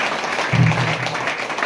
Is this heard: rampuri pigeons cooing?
no